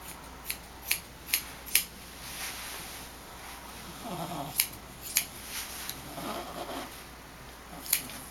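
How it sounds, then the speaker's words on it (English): Several crisp metallic snips of 5- to 6-inch grooming scissors trimming a cocker spaniel's fur, a few quick cuts in a cluster, a pause with soft rustling, then more isolated snips, close and moderately loud. "Coming around with my 6-inch scissors"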